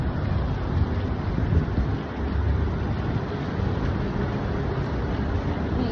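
Strong seaside wind buffets the microphone in a continuous, dense, low roar with gusty swells and no clear pauses.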